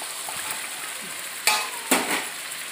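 Meat curry cooking in a pan gives a low background sizzle, broken by two sharp bursts as fried potatoes drop in and are stirred through, with a brief scraping rattle after.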